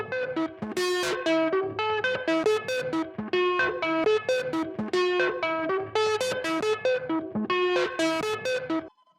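A loud, rhythmic synth pattern smeared by a sweeping, phaser-like distorted effect, repeating in steady bursts and stopping abruptly near the end.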